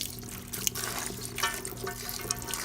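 Tap water runs steadily into a sink while menudo meat is rinsed, with a continuous close splashing stream and occasional drips and small clinks, no voices.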